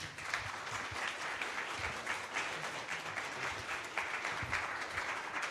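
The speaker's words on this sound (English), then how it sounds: "how about a round of applause for our panel?" Steady, full audience applause for a panel at a right-to-repair tour stop in Wisconsin, continuous clapping filling the room without a break.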